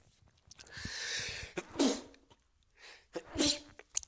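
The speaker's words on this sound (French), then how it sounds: "Excusez-moi, j'éternue." A person sneezes twice, two sharp bursts with breathy intakes before them, close and fairly loud, separated by quiet pauses.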